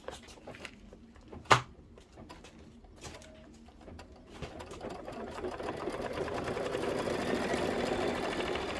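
An embroidery machine stitches out a design, its rhythmic mechanical hum building gradually after a few clicks and a sharp knock, with soft pigeon cooing in the background.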